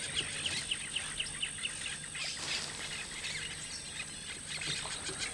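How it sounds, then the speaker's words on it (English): A colony of yellow-rumped caciques, birds that nest in hanging pouch nests, keeps up faint, busy chirping and whistling calls in a steady chorus, with a high insect-like whine beneath. "The main noise is coming from this colony of beautiful birds. They're called yellow-rumped caciques."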